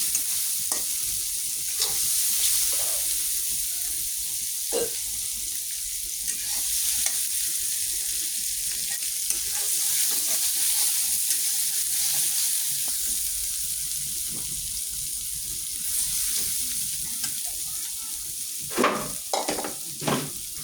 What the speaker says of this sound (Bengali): সুন্দর করে পেঁয়াজটি ভেজে নেবেন।